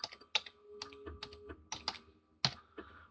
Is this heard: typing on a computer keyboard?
yes